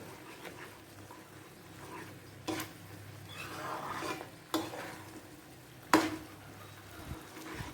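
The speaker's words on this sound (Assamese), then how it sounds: "এতিয়া এইখিনি ভালদৰে মিক্স কৰিব লাগিব।" A spoon works through watery tomato chutney sweetened with jaggery in a pan, making soft, low swirling and gentle sizzling, broken by three distinct clinks against the pan, close and quiet, with no voices.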